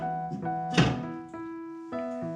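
Lid set down over a pan of steamed eggless mocha cake, a single dull thunk close by, with a steady hum from the stove before and after it.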